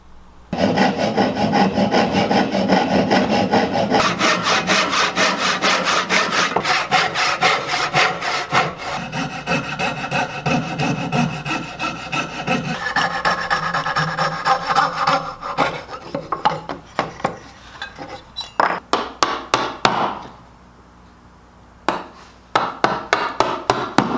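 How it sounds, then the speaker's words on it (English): Hand saw cutting female dovetails in wood for a farmhouse trestle table base, steady rhythmic back-and-forth strokes up close, loud and continuous, then slowing into separate rasping strokes with brief pauses near the end. "Once I cut out the female dovetails"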